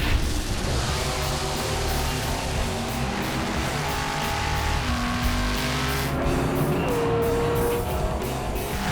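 A 1968 Plymouth Road Runner drag racing at Maple Grove Raceway, with a loud, continuous roar of engines and tire noise filling the whole stretch and no break in intensity.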